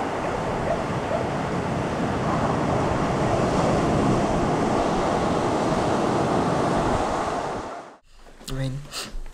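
Atlantic surf rolls onto an Irish beach in a steady, loud wash of breaking waves with wind buffeting the microphone, then cuts off abruptly near the end into brief other sounds.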